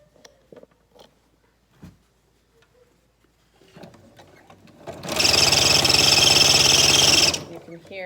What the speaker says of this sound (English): You can hear that I need to oil my machine.